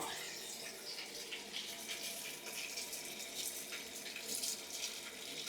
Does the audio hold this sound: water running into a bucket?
yes